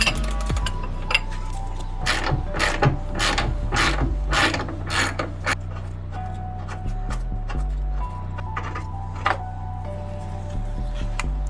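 Ratchet wrench loosens a heavily strained suspension nut on a wrecked Audi S1, with bursts of rapid metallic clicking early on, then slower clanks and clinks, close and fairly loud.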